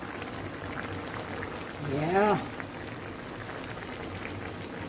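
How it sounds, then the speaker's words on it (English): Fish simmers in a cooking pot with a continuous low bubbling, while a voice briefly speaks over it midway. "There goes the fish just bubbling down."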